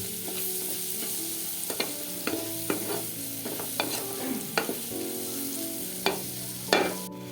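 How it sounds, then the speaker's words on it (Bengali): Shrimp sizzling in a small kitchen's pan with chilli, a constant frying hiss, punctuated by irregular scraping clicks as the pieces are stirred and turned. "আমাদের চিংড়ি মাছ ভাজা হয়ে গেছে প্রায়"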